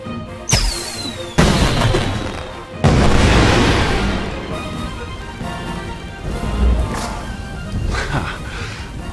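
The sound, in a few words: fireworks exploding in a video game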